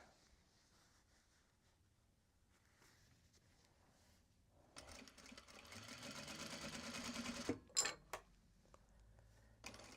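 A sewing machine stitches back over the seams of Japanese fabric accessories or bags, running in one loud continuous burst of about three seconds mid-clip, then stopping with a few sharp clicks before quiet returns.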